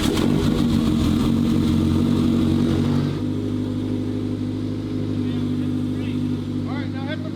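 A car engine idles after a cold start, loud and rough at first, then settles after a few seconds into a steadier, lower drone. It runs close and continuous.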